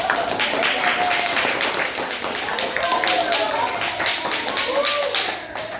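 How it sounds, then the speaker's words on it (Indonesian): An audience at an academic supervision session claps in a close, rhythmic burst while people talk over it. "Bagus, tepuk tangan"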